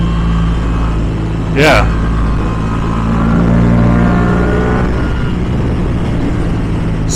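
A Yamaha R7 motorcycle engine drones steadily while riding, holding a constant low hum throughout with a brief rising whine partway. A voice speaks briefly over it.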